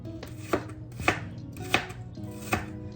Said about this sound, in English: So I'm gonna finish cutting up this onion